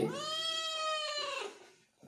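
A cat meows inside a church: one long, clear, tonal meow with rising harmonics that tails off after about a second and a half, close and alone with no talk.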